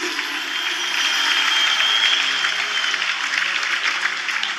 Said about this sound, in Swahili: Mpe Yesu makofi mazuri.